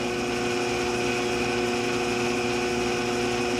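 A ShopSmith 10ER woodworking machine fitted with a slow speed kit runs at about 208 RPM, giving a steady, continuous motor hum with a whining tone, held at an even level throughout with no talking.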